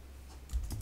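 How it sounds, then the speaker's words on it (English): Quick burst of a few keystrokes on a computer keyboard, soft and close, with a faint steady hum behind. "Let me first type in here Jira."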